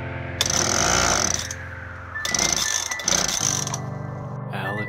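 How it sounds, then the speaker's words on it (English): A leaf blower starts up and runs in loud, rough bursts, cutting out for a moment before roaring again, with a brief pause near the end. "trying to get the leaf blower to work"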